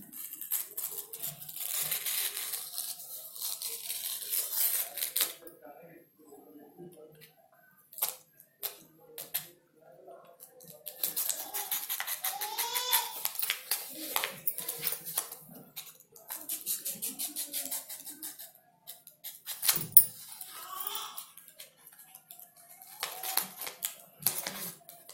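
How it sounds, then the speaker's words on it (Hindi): A paper cutter slices out part of a heart lock scrapbook card in repeated rapid clicking scrapes, close and uneven, coming in bursts separated by brief quiet gaps. "अब ये वाला जो पोर्शन है इसे पेपर कटर की हेल्प से निकाल देंगे"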